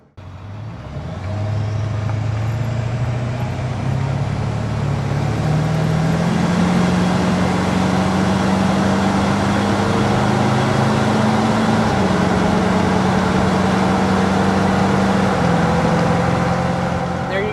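A 2001 Ford F250 with a 7.3 Power Stroke turbo diesel drives along, its engine drone steady and close, pitch rising slowly as it gathers speed, with faint cabin hum and no talk.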